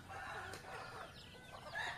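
Chickens in a backyard coop cluck and chatter faintly at a distance, with a quiet rooster crow near the end over low ambient noise.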